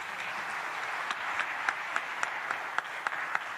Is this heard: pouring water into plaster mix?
no